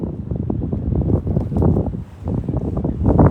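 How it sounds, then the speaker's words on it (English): Strong wind buffets the microphone while fishing from the shore for Australian salmon, a loud, rumbling, gusting roar that rises and falls without a break. "It's a bit windy"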